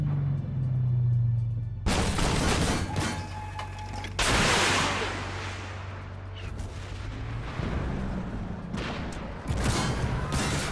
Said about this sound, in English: Warrior's shooting at me, he's pissed off